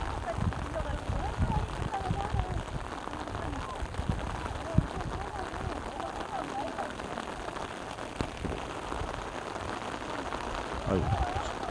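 Rain falling steadily at a single-log footbridge in Museom village, a constant hiss of drops on surfaces with faint voices and footsteps mixed in.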